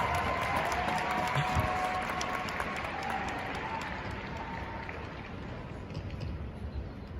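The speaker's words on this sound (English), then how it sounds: "I think we should give the biggest round of applause to all our leaders in the crowd. The loudest applause." Applause from a large crowd at a Nu Skin Live event, a steady, dense wash of clapping with some cheering mixed in, holding at an even level throughout.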